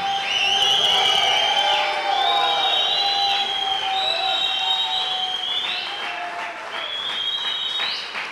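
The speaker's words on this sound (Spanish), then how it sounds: "Celebre con una gran ovación." Church congregation giving a loud ovation during a Spanish-language service, with sustained cheering, shouts and high whoops over continuous clapping throughout.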